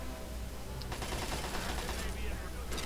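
An enemy opens fire on the player in Fallout 3, a dense string of rapid gunshots, fairly faint, running beneath steady game background noise.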